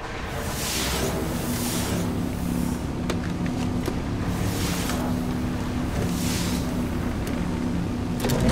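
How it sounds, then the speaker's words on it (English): Sparrow hover-bike engine from Destiny roaring steadily throughout a race, a continuous loud whooshing drone with swelling rushes of wind-like noise and a few sharp ticks. "Sparrow's just a seat and an engine."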